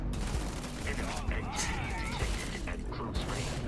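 Gunfire crackles in the video game Starfield in rapid bursts of shots and mechanical clatter, dense and fairly close, while a player talks over it.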